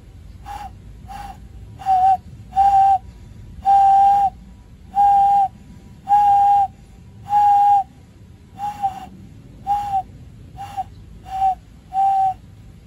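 Cupped hands played as a hand ocarina, blown with just the upper lip and tongue, produce about a dozen clear whistling notes of varying length in a steady, close, fairly loud sequence.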